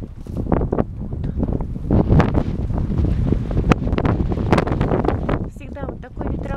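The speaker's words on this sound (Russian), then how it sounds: "Вот такой ветер, его прямо слышно," Strong, gusty wind buffets the microphone in a constant low roar, with someone talking over it throughout.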